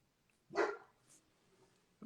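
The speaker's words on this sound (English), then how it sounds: "Dog in the background." A dog gives a single sharp bark, faint and somewhat distant in the background, followed by a softer sound and the start of another bark at the end.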